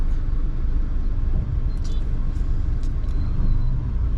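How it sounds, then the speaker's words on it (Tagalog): Busy road traffic in Africa heard from inside a moving vehicle: a continuous, heavy engine and road rumble with faint higher hisses and brake-like squeaks. "it's quite traffic"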